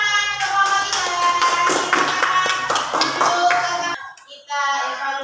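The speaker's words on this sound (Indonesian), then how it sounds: "Ya, boleh tepuk tangan untuk kelompok kita" A classroom group of students claps together in quick, irregular, fairly loud applause for several seconds, then trails off briefly before a short final burst of clapping.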